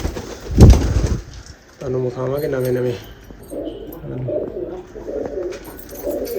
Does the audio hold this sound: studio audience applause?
no